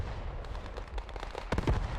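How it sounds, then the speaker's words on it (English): Artillery shells land in a World War II strategy game match, a string of muffled booms and thuds with a sharper, heavier blast cluster near the end. "No doubt that's JTF artillery landed straight on the cap."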